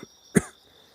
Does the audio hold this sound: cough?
yes